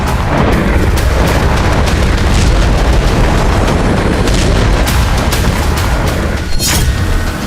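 War footage filled with loud, continuous explosions and artillery fire, a dense rumbling roar with repeated sharp bursts throughout and one brighter crack near the end.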